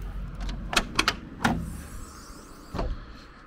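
The luggage compartment doors of a Temsa LD 13 SB coach, which lift like a car tailgate, are unlatched and opened with a quick series of sharp clicks and metallic clunks close by, then a single later thud.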